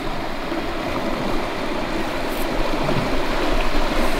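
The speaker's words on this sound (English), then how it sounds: "Just love the creeks during this time of year." Steady rushing water fills the whole stretch, a constant broadband flow like a creek running nearby with no voices, at Cache River.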